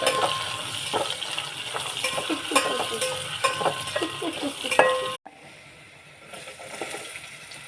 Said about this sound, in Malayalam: മുളക് അതും എടുത്തിട്ടിടാം. നന്നായി വഴറ്റുക.